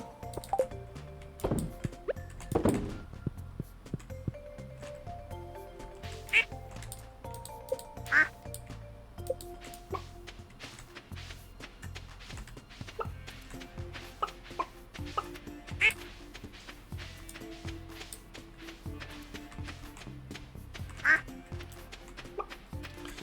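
Ducks on a farm in the Stardew Valley video game give repeated soft quacks, scattered at intervals over quiet game music and ambient farm sounds.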